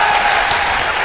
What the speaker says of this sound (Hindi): जरा ताली बजाइए, ताली बजाइए